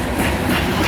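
A CSX westbound loaded coal train with helper locomotives rolls by up close, its steady clickety-clack of wagon wheels forming a loud, continuous rumble through the short moment.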